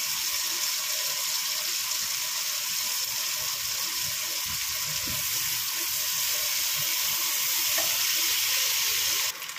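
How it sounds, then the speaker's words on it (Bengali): Onions fry in oil in a pan with a loud, continuous, close sizzle and faint stirring underneath, with no talking. "পেঁয়াজটাকে ভালো করে ভেজে নেব।"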